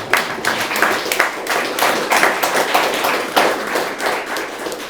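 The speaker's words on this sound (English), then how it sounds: "can we just give a round of applause quickly for all of them?" Applause from a panel audience, dense overlapping claps sustained steadily for several seconds, fairly loud and close.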